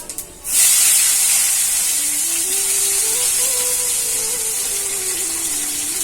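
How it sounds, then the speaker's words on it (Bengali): Panch phoron spices and chopped tomato hit hot oil in a pan, bursting into a loud sudden sizzle that settles into a steady hiss for several seconds, with a faint tonal whine rising underneath. "তেল তো গরমই আছে আমি এবার পাঁচ ফোড়ন দিয়ে দিচ্ছি টমেটো কুচি দিচ্ছি"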